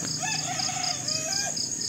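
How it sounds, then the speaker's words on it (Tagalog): A rooster crows in a long drawn-out call, with chickens and insects chirping steadily in the background of a quiet, foggy rural morning in Nueva Ecija, Philippines. "Kaya may mga manok."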